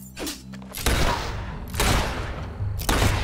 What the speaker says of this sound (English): Stop shooting our boys!